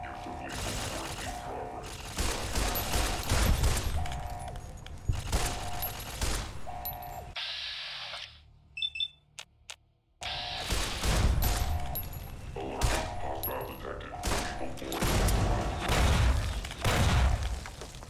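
Automated turrets in Fallout New Vegas fire sustained bursts of gunfire with mechanical clatter, loud and dense, broken by a brief lull with faint high beeps before the shooting resumes.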